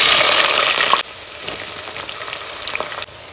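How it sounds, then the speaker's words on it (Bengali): Chopped onion drops into hot white oil for fried rice, a loud burst of sizzling that drops after a second to a steadier, quieter frying hiss with small crackles, heard up close without speech. "প্রথমে দেবো পেঁয়াজ কুচি"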